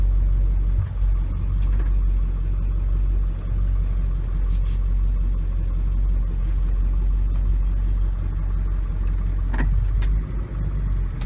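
A 2001 Ford F250 Powerstroke diesel pickup with a rebuilt transmission driving, its steady deep engine rumble and road noise loud and close throughout, with a few faint knocks and clicks; no talking.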